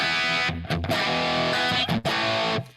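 Electric guitar played through an amp with a Rat distortion pedal set lightly, giving a few loud, sustained distorted chords with short breaks between them.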